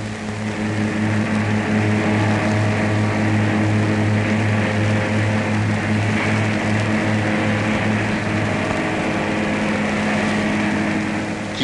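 A Peugeot car engine runs on a test stand at the Sochaux factory in the 1950s, a loud steady droning hum with a strong low tone that holds evenly throughout, no voices.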